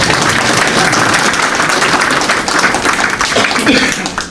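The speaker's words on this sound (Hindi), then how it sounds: "अरे सुसरे ताली तो बजाओ कम से कम" An audience claps at a live talk by a guru in Holland: dense, continuous hand-clapping close by, loud and sustained across the whole stretch, thinning slightly toward the end.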